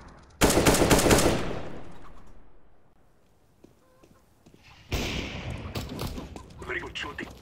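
Automatic gunfire in CS:GO bursts out loudly, fades into a near-quiet pause, then a second burst of rapid shots erupts and continues with scattered noise.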